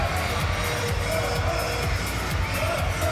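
Both Egypt and Germany sitting volleyball teams cheer in the middle of a men's bronze medal match, their shouts merging into a continuous, fairly loud crowd roar that never drops off.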